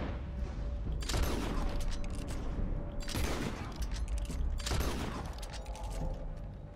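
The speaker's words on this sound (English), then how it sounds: "I'm gonna shoot this one" Gunfire in Red Dead Redemption 2: three loud, sharp broadband shots spaced about two seconds apart, each with a long ringing tail over a steady rumbling game backdrop.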